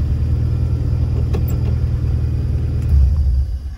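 A K-swapped car engine idles with a steady low rumble, close by, then winds down and quiets as it is switched off near the end.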